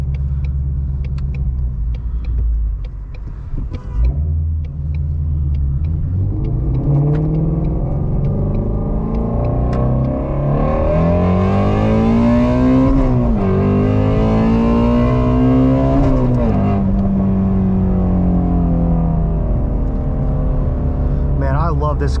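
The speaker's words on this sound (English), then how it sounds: "Man, I love this car. It is so violent once you get up in the RPM range" A Shelby GT350 engine revs hard under acceleration, heard from inside the cabin: a deep, loud rumble climbs in pitch through repeated rising sweeps, dipping briefly at each shift.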